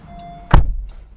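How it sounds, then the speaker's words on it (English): The door of a 2020 Honda CR-V Hybrid slams shut with a single loud, solid thud up close and a short low rumble after it, with no talking. "door has a nice solid slam to it"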